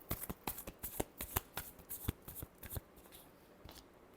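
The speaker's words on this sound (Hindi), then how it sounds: "Last shuffle." Tarot cards being shuffled by hand in a rapid run of crisp riffling snaps, close and fairly quiet, with no voice over them.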